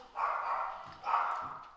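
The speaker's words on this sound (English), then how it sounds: "I hope these dogs ain't too loud, man." Two drawn-out barks or howls from dogs at moderate distance, each lasting nearly a second, with no voices.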